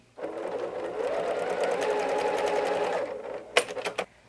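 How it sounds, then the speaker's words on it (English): A sewing machine stitches small straight seams while piecing dark fabric for a quilt block, running steadily for about three seconds, then a brief faster burst of stitching after a short pause; close and clear, with no talking. "we'll just start here by sewing our little straight seams to make this"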